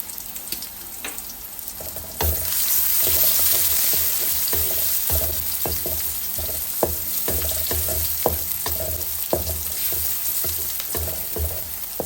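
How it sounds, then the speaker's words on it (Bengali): Onion, garlic and cumin seeds frying in hot oil, a loud close sizzle that swells after a couple of seconds, then crackles steadily under repeated sharp stirring taps against the pan, with no talk. "তেলে পেঁয়াজ রসুন দিয়ে দিলাম একটু আস্তা জিরা দিয়ে দিলাম"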